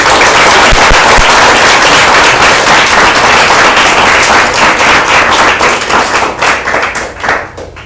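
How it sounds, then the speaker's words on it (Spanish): A church congregation applauding loudly and continuously, with dense clapping from many hands that fills the space and then thins and fades over the last couple of seconds. "Dale un aplauso a Él."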